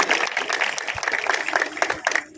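Applause from a crowd at a public gathering honouring Maruti Aba, dense overlapping claps filling the whole moment at moderate loudness, with some voices mixed in.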